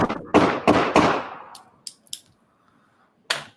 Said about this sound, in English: Okay, I'm hearing so many fireworks right now.